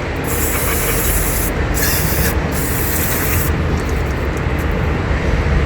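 A high-pressure spray blasts onto electrical parts of a Mitsubishi Triton or Pajero Sport, a loud, continuous, close hiss that holds steady throughout with only brief shifts in texture.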